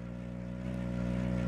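A tuk-tuk engine in the PUBG video game drones steadily and loudly at close range, with a low, buzzing, even tone that swells slightly partway through and carries on without a break.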